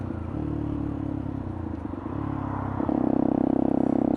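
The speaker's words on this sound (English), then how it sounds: "this exhaust just seems really loud because I've not been out for so long on the bike" A pit bike exhaust burbles steadily with a throbbing pulse, swelling louder as the bike picks up revs, heard up close over road and wind noise.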